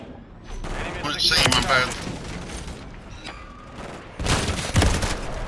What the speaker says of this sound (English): Alright, I'm gonna shoot.